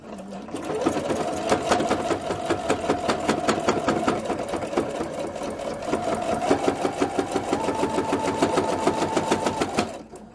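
A sewing machine stitches fabric for a nine-patch pot holder in a loud, continuous run of fast, even needle strokes lasting nearly ten seconds before stopping, with slight changes in speed.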